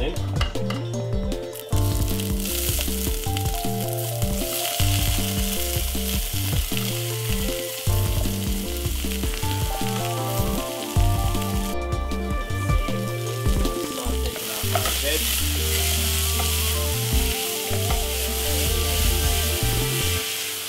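Seasoning sizzles in olive oil in a preheated frying pan for brown stew chicken sauce and is stirred now and then. The frying hiss is steady throughout, with background music playing over it and no speech.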